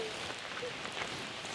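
Rain falling steadily on a Monday morning in the Black Forest in Germany, a dense even patter on surfaces close by, with no talk over it.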